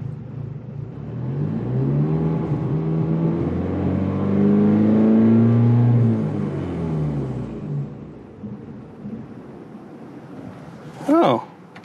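A Ford Mustang's engine idles roughly with an uneven, lumpy rumble that swells and then fades as it falters. A brief sharp noise comes near the end.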